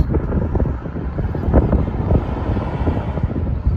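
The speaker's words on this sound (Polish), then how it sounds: "wieje fest i może nie będzie słychać to, co mówię" Strong wind blows outdoors beside an empty M40 motorway, buffeting the microphone with a loud, continuous rumbling roar that gusts unevenly. No one speaks.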